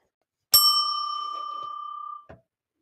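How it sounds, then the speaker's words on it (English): A single clear bell ding rings out once and sustains with a long, ringing decay before a faint knock at the end, marking a page turn in a children's audiobook reading of Stick and Stone. "make sure you turn the page when you hear the bell"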